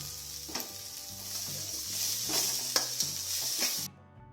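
Sliced onions sauté in oil in a pan with dried red chillies and salt for semiya upma, giving a steady close, bright sizzle with a few soft stirring scrapes, then cutting off abruptly near the end.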